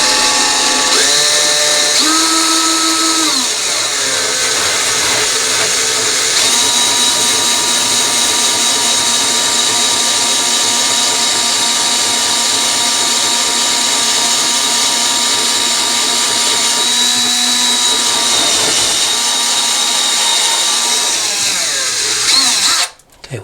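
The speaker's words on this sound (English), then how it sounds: "We're going to drill very slowly through the tile so we don't crack it." A power drill fitted with a tile bit bores slowly through bathroom tile during a vanity and sink installation. A loud, sustained whine shifts pitch several times as the motor speed changes, then cuts off abruptly at the end.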